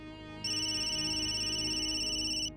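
A mobile phone rings with a steady, bright electronic ringtone that starts abruptly, holds for about two seconds, then cuts off. It is fairly loud and close, with no talk over it.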